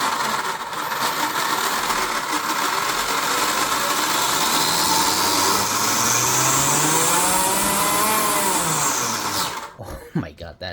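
An electric motor at full throttle spins a 3D printed high-ratio gearbox, a loud whining roar that sweeps upward in pitch, holds high, then cuts off abruptly with a few clunks, a voice heard talking over it.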